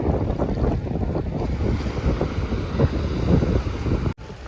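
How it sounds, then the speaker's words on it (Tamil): A fishing boat powered by three Yamaha outboard engines heads out to sea, its steady broadband rumble blended with wind buffeting the microphone and surf, continuous and fairly loud before cutting out abruptly near the end. "கடலுக்கு இப்போ தான் போகிறாங்க மீன் பிடிக்கிறதுக்காக மூணு இன்ஜினில் ஓட போகிறாங்கங்க எமகா இன்ஜின்"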